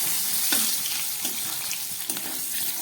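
Potato pieces fry in hot oil seasoned with cumin seeds and a bay leaf for a fish curry, giving a steady close sizzle with a few louder crackling bursts and no talking.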